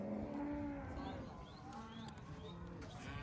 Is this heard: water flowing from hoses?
no